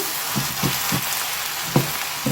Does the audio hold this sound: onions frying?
yes